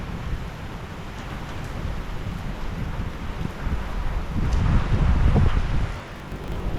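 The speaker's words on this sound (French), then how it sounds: "L'orage se donne à fond." A thunderstorm drives heavy, icy rain and gusting wind against a small chapel's porch, a steady rushing roar that swells in a stronger gust midway, with no talk.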